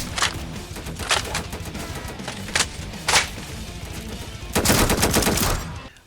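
A UMP45 submachine gun firing in the Roblox game The Undead Coming: several sharp separate shots, then a sustained automatic burst toward the end, loud and close with no talking.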